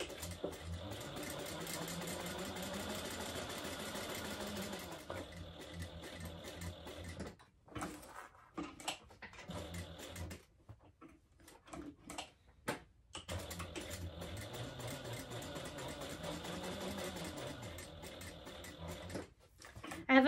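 A sewing machine hums along top stitching a purse, running steadily in long bursts, stopping for a stretch of scattered quiet handling noises, then resuming for another sustained run.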